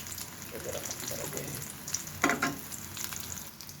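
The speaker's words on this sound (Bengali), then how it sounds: "আমি ভেজে নিচ্ছি বারবার খুবই ক্রিস্পি এবং মজাদার" Potato and pointed gourd pakoras frying in hot mustard oil, a steady close sizzle with brief louder crackles and a stirring scrape partway through, no voices.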